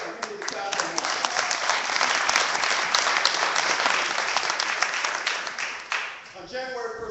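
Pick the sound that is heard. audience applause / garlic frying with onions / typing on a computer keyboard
audience applause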